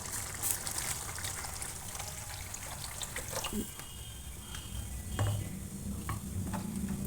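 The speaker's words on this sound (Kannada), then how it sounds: "ಈಗ ನೀರು ಹಾಕ್ಕೊಳ್ಳೋಣ ಇದಕ್ಕೆ" Water is poured into tomato rasam in a pot, a close trickle and splash mixed with light stirring and sizzling.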